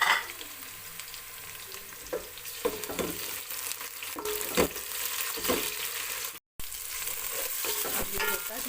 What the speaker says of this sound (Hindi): ये प्याज मेरे हो गए, बस मैं इसके अंदर अब टमाटर डाल देती हूँ।